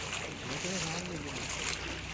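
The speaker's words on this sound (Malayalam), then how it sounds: "ബോട്ട് പോകുന്നുണ്ട്." A boat engine hums steadily on the water, with wind and splashing around it and faint voices in the background.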